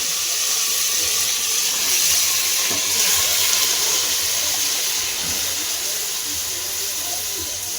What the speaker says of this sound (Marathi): लसणाचा तडका दिला आपण